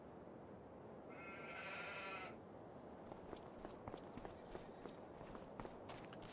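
A sheep bleats once, faint and distant in Farming Simulator 25, over a steady outdoor background hum, followed by light scattered footstep-like taps.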